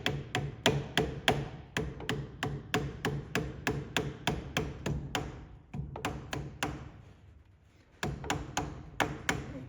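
A rubber hammer taps a king pin on a 1979 Kenworth truck in quick regular runs of blows, a short pause, then another burst of evenly spaced knocks, close by.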